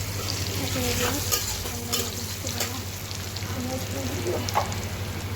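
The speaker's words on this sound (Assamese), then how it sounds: "তেলতে নহৰু দিছোঁ পিঁয়াজ দিছোঁ" Garlic and onion sizzle in a little hot oil in a home kitchen pan, a steady frying hiss with scraping stirs and clinks from a utensil, and a low background hum throughout.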